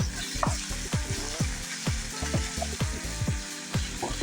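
Mushrooms, bacon and sauerkraut with spices sizzle in a hot pan while a utensil stirs them, scraping in a steady rhythm of repeated strokes, close up with no talking.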